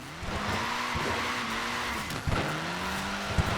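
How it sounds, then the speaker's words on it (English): A short-wheelbase, front-wheel-drive Mini slides with its tyres skidding and squealing over a steady engine drone, with a couple of sharp bumps near the end, close and moderately loud. "Short wheelbase, front wheel drive. It's really not an easy car to slide, this."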